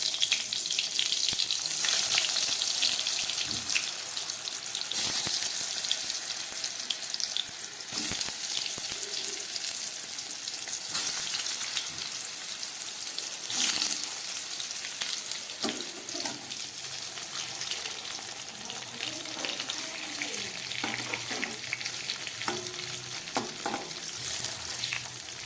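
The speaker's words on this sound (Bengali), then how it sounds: "এবার এই নুন হলুদ মাখা পটলগুলো আমি ভেজে নেব।" Salted, turmeric-coated pointed gourds (potol) fry in mustard oil in a kadai, a continuous bright sizzle with occasional bursts and scraping as the pieces are turned, loud and close throughout.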